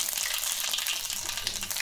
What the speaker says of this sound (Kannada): ಇವಾಗ ನಾನು 1 ಸ್ಪೂನ್ ಆಗೋಷ್ಟು ಸಾಸಿವೆ ಹಾಕ್ತಾಯಿದ್ದೀನಿ